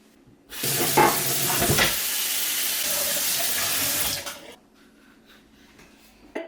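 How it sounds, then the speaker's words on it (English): A kitchen tap runs at full flow for about four seconds while meat and plantains are washed, a steady close hiss of water that cuts off abruptly and leaves faint handling noises. "I will wash my meat and be doing the plantains"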